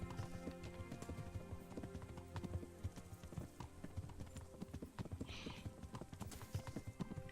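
Horses trotting in Kingdom Come: Deliverance, a steady overlapping clip-clop of several hooves with jingling tack and occasional snorts, close and continuous throughout, set against a quiet musical background.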